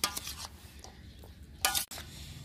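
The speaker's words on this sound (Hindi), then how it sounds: "अब हम इसे मिक्स करेंगे।" Boiled potato and chickpea chaat being mixed in a bowl, with a few scattered scrapes and clinks of a spoon against the dish and a louder, rougher stir near the end.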